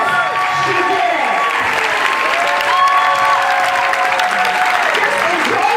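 Sustained loud applause from an audience of dancers for Susan, steady dense clapping with shouting and cheering voices mixed in.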